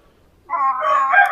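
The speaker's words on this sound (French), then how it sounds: "Donc là, il y a un jeune coq soie roux." A young red Silkie rooster gives a short, thin, strained crow that rises from silence, close and fairly loud, lasting under a second.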